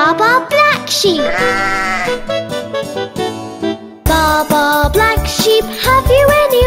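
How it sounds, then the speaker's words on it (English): A black sheep in a children's nursery rhyme song bleats repeatedly and loudly over a bright, bouncy music track with sung vocals and jingling percussion. "Let's meet Bob our black sheep."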